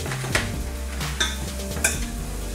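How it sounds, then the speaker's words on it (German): Garlic frying until dark brown in a pan, a close steady sizzle with a few sharp clinks and scrapes of a utensil stirring against the metal. "Der Knoblauch sollte dunkelbraun werden, aber nicht schwarz, sonst wird er bitter."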